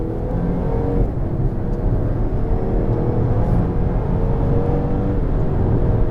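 A Volvo S60 T6 AWD R-Design accelerating, with a steady, loud engine rumble and whir from inside the car that holds an even level throughout with no talk.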